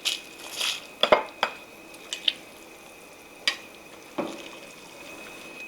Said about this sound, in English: Then we're gonna add in our cabbage.